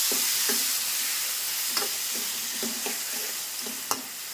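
Tomatoes frying in a pan with onions, a steady soft sizzle under intermittent scraping stirs, with a few light taps of the spatula on the pan, close and moderately quiet.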